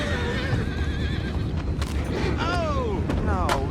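Two high, wavering horse whinnies from Red Dead Redemption 2 ring out near the end over a steady bed of ambient noise and low rumble.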